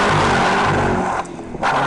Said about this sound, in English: Once into second, the V pulls all the way to redline without missing a beat.